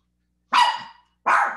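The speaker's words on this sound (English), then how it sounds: "The dog's going crazy." A dog barking indoors, two loud, close barks separated by a brief silence, with no talk.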